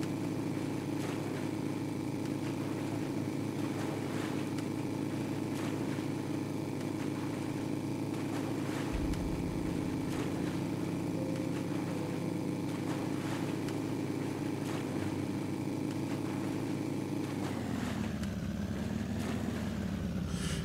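A fast boat's engine in the survival game Sunkenland drones steadily and loud for the whole stretch, with a shift in pitch near the end as it changes speed; no one speaks.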